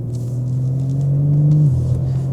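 A BMW G82 M4 fitted with a DCE equal length X-pipe exhaust and OPF delete, heard as a loud, steady low engine rumble that swells slightly before dropping back, with no talk over it.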